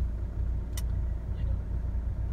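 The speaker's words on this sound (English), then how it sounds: "the truck is having difficulty going through the road" A truck struggling along a rough road gives a close, heavy low rumble of engine and chassis, steady throughout with a brief sharp knock partway through.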